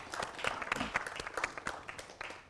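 An audience applauds Paul Valéry, the host welcoming guests to his venue: a short burst of scattered, moderately distant clapping with individual claps standing out, fading slightly toward the end.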